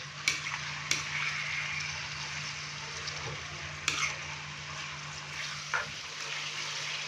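Beef frying in oil over a high flame, a steady close sizzle with a few sharp pops and stirring clinks, and a low hum beneath.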